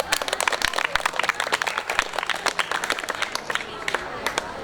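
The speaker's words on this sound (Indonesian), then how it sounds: "Tepuk tangan untuk kelompok vokal." Classroom applause for a vocal group: a lively burst of many hands clapping in quick, uneven rhythm, close and fairly loud, tapering slightly toward the end.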